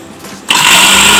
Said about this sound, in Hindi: हमने राइस को ग्राइंड कर लिया है।